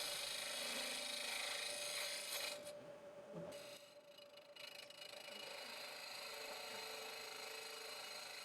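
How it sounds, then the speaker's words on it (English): A wood lathe cuts aggressively into an air-dried wood blank with a hollowing system, giving a steady, fairly loud scraping whine that eases briefly midway before resuming its continuous grind. "I'm making some very aggressive cuts here."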